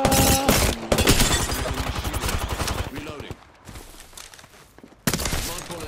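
Rapid Apex Legends gunfire rattles in dense bursts, loud and close, then fades into quieter game ambience before a sharp burst of shots returns at the end.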